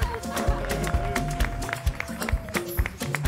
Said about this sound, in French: Merci de nous applaudir très fort.